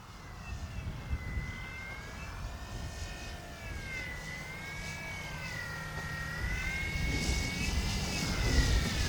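A Flex Innovations RV-8 G2 RC model airplane's engine whines steadily overhead, its pitch wavering up and down as it banks, growing slightly louder toward the end.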